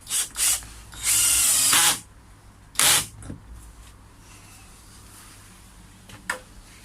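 A power drill drives screws into the corner supports of a koi pond's wooden frame in several short bursts, one lasting about a second, then a quiet pause and a faint click.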